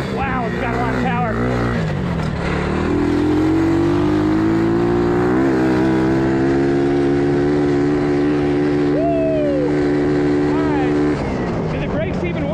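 A tiny Honda ATC 70 three-wheeler fitted with a swapped 140cc engine revs up hard, climbing to a loud, sustained high-pitched drone. It holds for several seconds, then drops away near the end.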